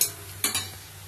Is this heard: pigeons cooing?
no